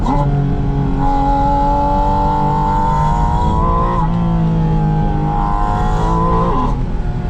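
A 2025 Porsche Spyder RS engine drones loudly from inside the cabin, its pitch climbing and falling through gear changes as the car drives hard through corners, with a voice talking over it.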